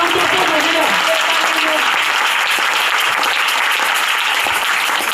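A church congregation applauds during a worship service, dense and loud clapping sustained throughout, heard up close.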